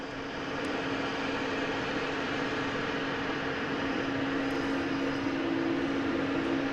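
A FedEx plane arriving at Boston Logan International Airport, its steady engine roar holding at an even, fairly loud level throughout, with a constant tonal hum running under broad rushing noise and no voices.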